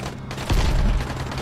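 Gunfire in the video game Dying Light: a dense, booming burst of shots rises halfway through and sustains loudly to the end over a constant rumbling game background.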